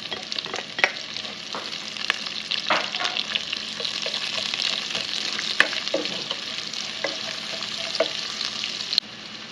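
Onions frying in a pan with chicken, a steady broadband sizzle with occasional stirring clicks and scrapes, close and continuous with no talk.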